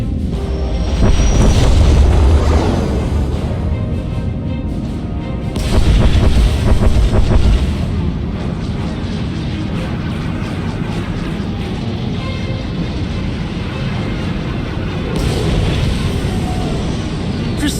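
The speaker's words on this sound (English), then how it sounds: "Proceeding with bombardment." Starship bombardment in the SWTOR space battle, heavy booming explosions rolling in deep, loud waves over a constant low rumble, with swells around the start, middle and end.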